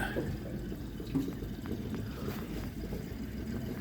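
A low steady engine rumble with water splashing and churning around a small Frewza F14 boat cruising in Doubtful Sound, Fiordland, continuous and fairly close, with no voices.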